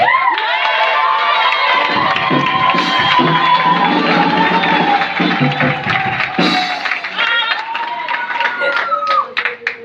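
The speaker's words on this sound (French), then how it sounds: "Acclamons pour le Seigneur. Acclamons parce que Dieu t'a donné de vie." A church congregation at a New Year's crossover night service cheers and applauds in acclaim, a loud sustained crowd roar with clapping, shouts and high voices, and a speaker's voice heard over it, tapering off at the end.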